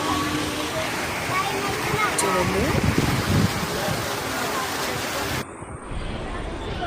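Broadband rushing water from a waterfall at a hillside temple pours steadily and loudly, with a single word spoken over it.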